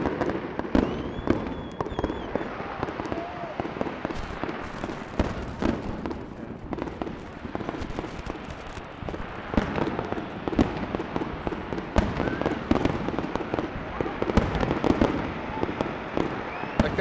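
Fireworks bursting in a night sky, a continuous stream of crackling pops and booms at moderate distance, dense and steady throughout with no pause.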